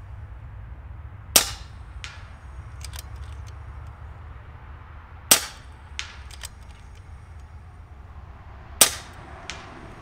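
An FX Maverick air rifle fires 34 grain pellets, three sharp close cracks spaced a few seconds apart, each followed by a faint metallic tick or clack over a low steady background hum.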